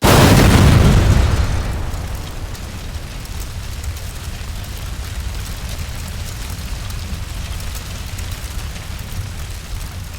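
A deep, loud explosion from the Grand Camp cargo ship blast, heavy at the outset and then fading into a long, steady rumbling hiss of debris and aftermath with no voices.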